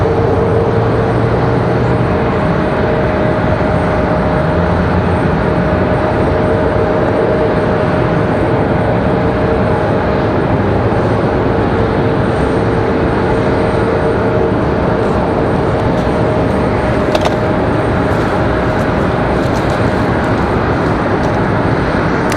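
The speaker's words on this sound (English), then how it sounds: "There's that beautiful New Pacific 757." A New Pacific Boeing 757 jet departs at Raleigh-Durham airport, heard as a steady, loud, broadband engine roar that holds evenly throughout with no voices.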